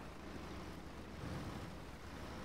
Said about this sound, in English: you'll see the river flowing past with a pretty good current going on it